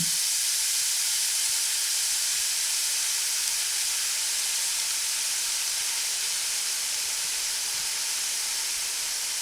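Cut raw mangoes go into hot oil with fried spices for a sweet mango pickle, producing a loud, even, unbroken sizzle and hiss that lasts throughout.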